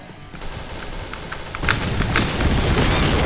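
Dense rattling gunfire and blasts from a Point Blank shooter game, swelling into a louder roaring grenade explosion partway through, with continuous crackling battle noise.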